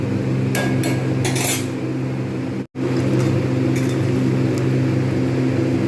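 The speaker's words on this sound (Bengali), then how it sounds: "এবার আমি এটাকে ঢাকনা দিয়ে রেখে দেবো" A lid clatters onto a pot of simmering hing aloor dum, a potato curry with added water, bringing a couple of brief metallic clinks over a steady low kitchen hum.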